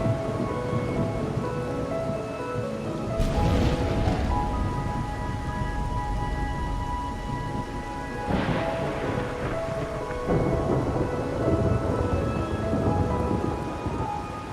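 Steady rain and rumbling thunder inside the Wuthering Waves video game, with a continuous downpour and low rolls of thunder swelling repeatedly across the scene.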